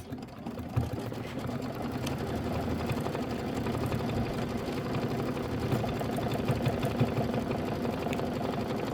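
An embroidery sewing machine stitching a running stitch, a continuous close rapid mechanical whirring and clatter lasting the whole stretch, steady and alone.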